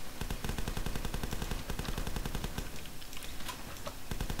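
Rapid gunfire in The Last Stand game, a dense, loud stream of evenly spaced shots rattling like a machine gun throughout, with no voices.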